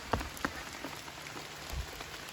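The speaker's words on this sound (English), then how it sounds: "It's rainy. But you know, it's not a torrential rain." Light rain falling on a hiking trail near a shelter, soft steady patter with a few louder individual drops landing close by, fairly quiet and with no voices.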